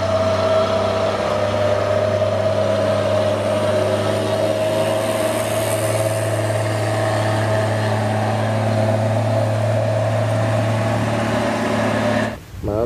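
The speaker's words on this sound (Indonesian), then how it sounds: "Wih, kita dapat mobil box teman-teman, logistik teman-teman." A box truck engine idles with a steady, loud low drone and a constant higher hum lasting throughout, ending in a brief mechanical clunk near the end.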